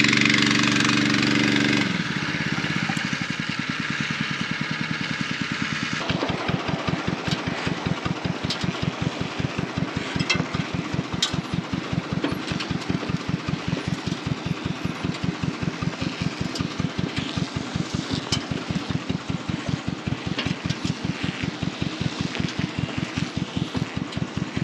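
A tractor engine starts up and then runs steadily, chugging with a fast regular pulse, close and loud throughout.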